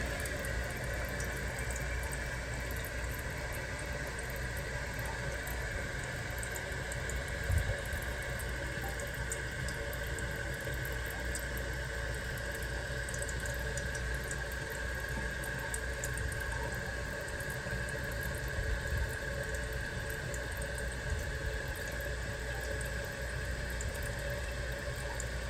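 Water runs steadily into a toilet tank through a newly installed fill valve, a continuous hissing, gurgling flow with a faint pump-like hum, close by and unbroken throughout.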